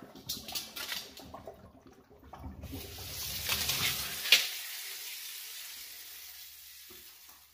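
Tap water running into a sink to rinse freshly harvested peanuts, a steady hiss with stirring and sloshing of nuts in the first half, then the flow continuing more evenly before tapering off near the end.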